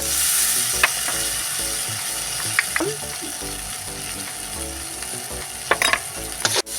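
Chopped tomato hits hot oil and spices in a pan. A steady sizzle runs throughout under busy, ratchet-like clicking and clattering, with a few louder knocks near the end.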